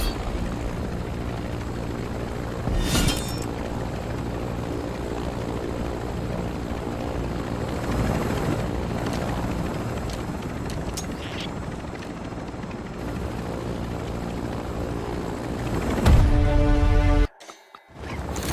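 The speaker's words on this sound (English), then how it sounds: "don't be under the chopper as I do" A helicopter in the Modern Warfare Zombies video game sets down, its rotor thudding loud and steady for many seconds, with swells, a few sharp clanks, then a brief cutoff near the end.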